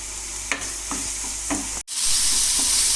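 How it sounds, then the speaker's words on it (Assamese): Onions frying in a pan over low-to-medium gas for fish kalia give a steady, bright sizzle. Several spatula strokes scrape through it, and there is a brief cut before the hiss returns louder. "মই পিঁয়াজ এইখিনি 10 মিনিট পূৰা 10 মিনিট ভাজিছোঁ।"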